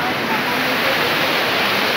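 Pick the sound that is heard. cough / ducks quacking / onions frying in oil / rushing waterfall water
rushing waterfall water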